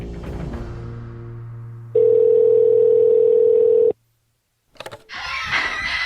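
A phone line sounds while a call is placed: a flat, loud, sustained steady tone for about two seconds after some lower murmuring, then a cut to silence, a brief click and a burst of noisier sound.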